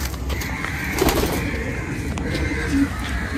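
Madrasi pigeons coo softly amid a busy, noisy loft, the low throaty calls partly masked by steady background rumble and bustle.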